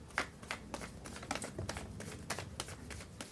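Crisp papery flicks and riffles of tarot cards being shuffled by hand, close up and fairly quiet, repeating in quick irregular bursts with no talking.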